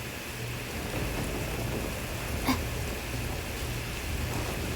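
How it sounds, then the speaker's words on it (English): Rain falls steadily during a thunderstorm in the video game Genshin Impact, with a brief sharp crack of lightning striking close by midway through the downpour. "Lightning hurts."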